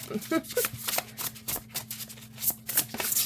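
A tarot deck gets an overhand shuffle, producing a quick run of soft papery flicks and slaps close up, with quiet talk going on around it.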